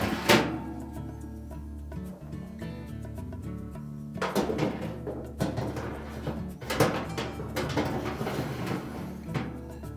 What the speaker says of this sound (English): We can then reinstall the oven racks.